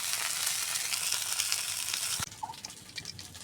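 Food frying in hot oil in a kadai while cooking a rohu fish curry gives a loud, steady hiss for about two seconds, then cuts abruptly to quieter kitchen sounds.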